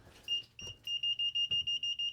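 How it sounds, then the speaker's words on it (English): A voltage tester held near a live power source in an RV gives a quick series of high, piercing beeps, a few separated chirps settling into a fast regular run, close and clear with no talking. "if you hold it near the power source, it'll tell you by beeping that it's live"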